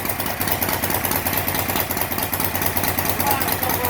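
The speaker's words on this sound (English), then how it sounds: "one of his latest creations, a Knucklehead with a Vard front end" A custom Harley-Davidson Knucklehead motorcycle with a Vard front end idles close by, a loud, steady, lumpy rumble with rapid pulsing beats throughout.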